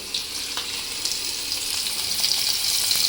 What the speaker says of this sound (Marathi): आता बघा हा या तव्यामध्ये हा पॉपलेट अख्खा भरणार आहे